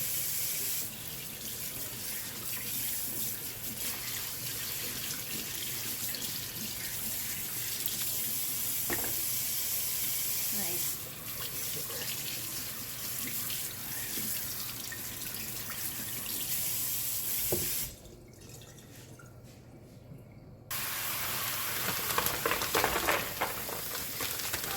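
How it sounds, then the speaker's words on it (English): Kitchen tap water runs steadily into a sink while food is rinsed for a budget chicken noodle and dumpling soup, a broad hiss that breaks off briefly near the end and then resumes. "we'll go ahead and just kind of rinse this off a little bit here"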